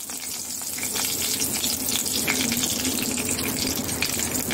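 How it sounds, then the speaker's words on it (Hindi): Bay leaf and panch phoron spices sizzle in hot oil with a dense, steady crackling hiss that swells slightly after the first second, close and continuous, no talking. "अब इसमें तेज पत्ता, 5 फोरन डालेंगे"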